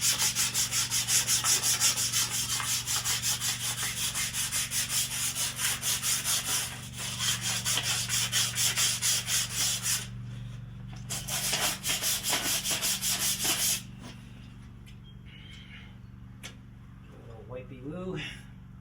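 Hand sanding of the metal wheel shaft on a Troy-Bilt 645A, close rhythmic back-and-forth rubbing strokes that stop partway through, with someone talking over and after the sanding.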